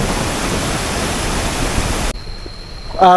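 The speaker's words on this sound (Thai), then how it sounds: "เสียงน้ำดังมากเลยได้ยินเสียงเราหรือเปล่า" A loud, steady roar of a rushing waterfall beside a campsite at Thong Pha Phum, Thailand, fills the air, then drops away abruptly near the end as the noise cuts to quieter background.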